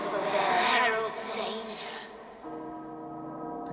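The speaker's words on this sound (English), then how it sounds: "The bells." Church bells toll in the Resident Evil Village game trailer, ringing tones swelling and then fading into sustained resonant hum, with talk over the start.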